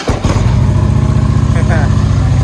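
A rebuilt salvage Harley motorcycle engine cranks and catches at once, then settles into a loud, rapid, throbbing idle close by. A brief voice sounds over the running engine.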